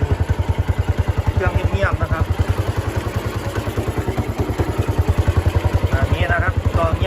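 A Honda Sonic 125 motorcycle engine runs close by with a steady, even chugging pulse throughout, and a voice talks faintly over it.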